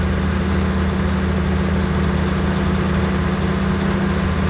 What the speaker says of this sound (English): Listen to that thing, man. That's tractor sounds legit.